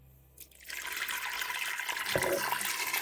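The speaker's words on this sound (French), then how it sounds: "Et là, du coup, je rajoute de l'eau." Water pours into a cooking pan, a rising rushing splash that starts after a brief quiet moment and continues steadily, fairly close.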